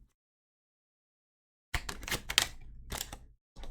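Tarot cards shuffled by hand in quick bursts of close, crisp riffling and slapping after a silent start, with a brief pause before a final flurry.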